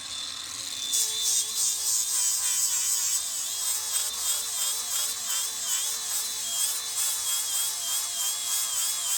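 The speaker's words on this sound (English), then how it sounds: "all I'm going to use for that is just one of these 40 grit discs, just to get these nibs off" A 40 grit sanding disc on a power tool grinds nibs off a carved wooden Buddha, producing a continuous, loud, close whirring whine that lasts throughout with slight wavering pitch.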